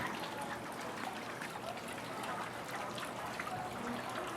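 A small water feature at a Spanish stucco lodging in old Palm Springs trickles and splashes in a steady, fairly faint stream with no break.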